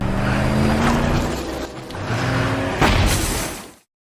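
In a film scene, a car leaves the road and rolls down into a ditch, a loud roaring engine and tumbling rush that surges, then ends in a sharp impact before cutting abruptly to silence.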